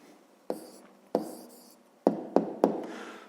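Pen scratching out an answer to a fifth-grade math exercise, heard as five separate close strokes, each opening with a tap and fading out, spaced unevenly in a quiet room.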